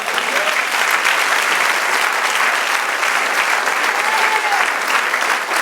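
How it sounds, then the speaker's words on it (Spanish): A church congregation at a sermon clapping together, loud, sustained and even applause filling the room, with faint voices mixed in. "Denle un aplauso al Señor."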